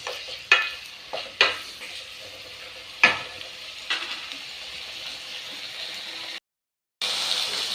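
Bitter gourd sautéing with salt in a pan, a soft continuous sizzle broken by several sharp scraping stirs, close by, with a short silent gap near the end.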